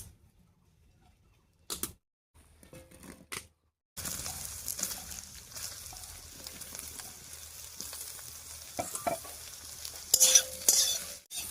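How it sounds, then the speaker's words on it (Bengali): Soybean chunks fry in leftover onion-frying oil in a wok. After a few seconds of near silence and short bursts, a steady close sizzle sets in with periodic scraping stirs and clacks. "এবারে কড়াইয়ে পেঁয়াজ ভাজার যে তেলটা রয়ে গেছে তার মধ্যে সয়াবিনটা হালকা করে ভেজে নেব।"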